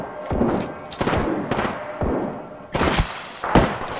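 Gunfire in the Apex Legends video game rings out as a close, loud series of sharp shots and heavy thuds, fired in several irregular bursts.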